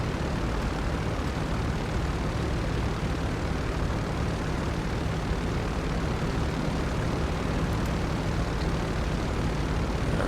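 A constant, loud engine drone from an MV-22B Osprey taxiing on an aircraft carrier in GTA 5, a steady broadband roar with a faint propeller hum and no talking.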